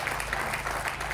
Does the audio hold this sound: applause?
yes